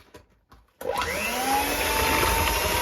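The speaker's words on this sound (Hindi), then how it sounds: "और अब हम इसे थोड़ा सा बीट कर लेते हैं।" Two eggs being beaten for banana bread: after a few faint knocks, a steady, loud motorized whir starts abruptly and runs without a break, with no voices.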